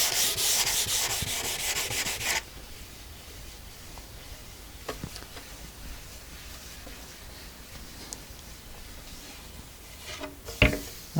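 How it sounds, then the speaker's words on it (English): Sandpaper rubs steadily over a finished wood surface, turning the finish to dust, with a loud continuous sanding hiss for the first couple of seconds, then quieter intermittent scraping and a few knocks. "I'm getting a lot of the finish turning to dust on the sandpaper"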